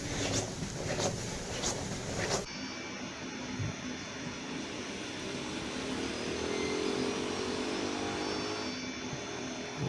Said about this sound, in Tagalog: Tignan mo motor yan